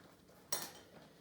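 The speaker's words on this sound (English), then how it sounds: "and my spoon." A single short clink of a metal spoon being handled, a brief bright metallic tap near and alone against quiet background, with nothing else following.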